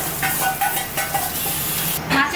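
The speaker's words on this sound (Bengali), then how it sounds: "মাছের ডিমটা বড়া করে নিচ্ছি একটু পেঁয়াজ কাঁচা লঙ্কা দিয়ে।" Fish roe fritters with onion and green chilli fry in hot oil, a steady close sizzle and hiss with light stirring scrapes running through it.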